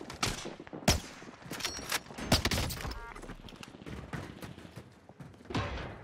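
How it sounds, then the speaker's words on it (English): Bursts of gunfire from the Warzone game crack out in several sharp volleys and single shots, loud and close, with irregular spacing across the moment. "Hey, are you shooting people?"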